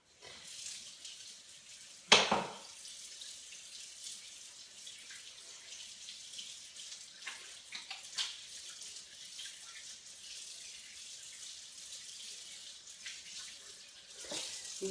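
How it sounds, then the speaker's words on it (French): Water runs steadily from a kitchen sink tap as hands are rinsed, a soft continuous splashing hiss with a brief louder splash near the start and small shifts as the hands move, no speech. "on se rince les mains"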